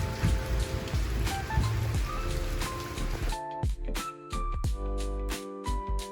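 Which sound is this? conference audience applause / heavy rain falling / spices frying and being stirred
heavy rain falling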